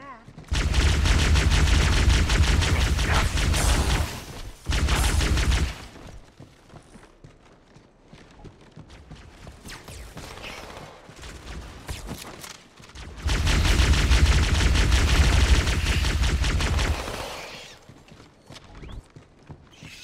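Double plasma pistols fire in Halo, two long, loud sustained bursts of rapid energy shots, separated by quieter game ambience and scattered impacts.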